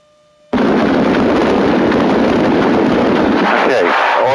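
A small aircraft engine running at throttle 17, bursting in abruptly after a quiet moment and then roaring loud and close with a steady, rough, wind-buffeted drone.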